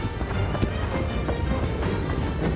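Fast clip-clop hoofbeats of a horse galloping in Shadow of the Colossus, loud and continuous over a dense game soundscape, with no talk.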